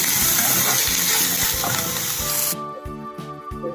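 A pan of potato filling hisses and sizzles as turmeric and salt are stirred through it, then the frying drops abruptly to a quieter scraping and clinking of the spoon.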